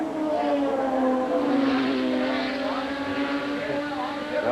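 Race car engines roaring at a 1987 IMSA GTP race at Lime Rock Park, a loud steady drone with shifting engine pitch as cars pass, with no talk over it.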